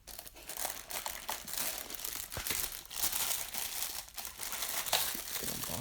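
Packaging crinkles and rustles steadily as a cheap stereo is unboxed, close-up plastic and paper crackling in uneven bursts with no talking.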